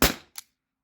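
A T4E HDP50 CO2 pistol fires a single sharp, close shot with a short decay, followed by a faint metallic click a moment later.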